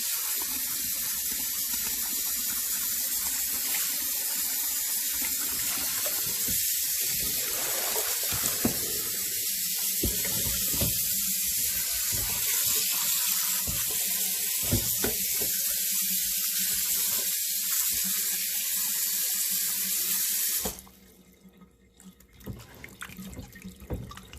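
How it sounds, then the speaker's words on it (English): Tap water runs steadily into a kitchen sink while pork bones are rinsed, a continuous splashing hiss with small knocks and clatters, cutting off near the end to leave faint drips and quiet handling sounds. "Rinse it thoroughly so it removes all the meaty smell as well."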